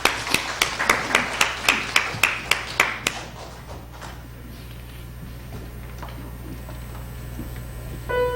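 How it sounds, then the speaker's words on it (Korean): Evenly spaced claps, about a dozen in steady unison rhythm, from a congregation during a church worship service, stopping after three seconds and leaving a quiet, reverberant hall. "박수하겠습니다."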